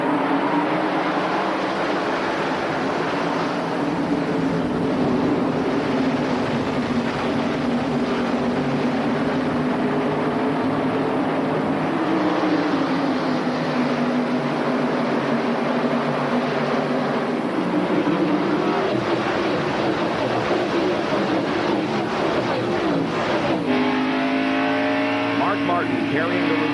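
NASCAR stock cars roaring off at the start of the 1992 Food City 500, a loud continuous engine drone that climbs in pitch as the field accelerates, with commentary talking over it.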